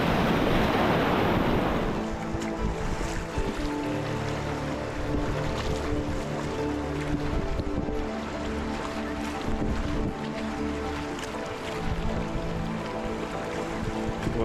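A packraft is paddled across open water in Scandinavia, with a gusty, wind-like roar at first giving way to a steady low drone and soft, irregular water sloshes under the strokes.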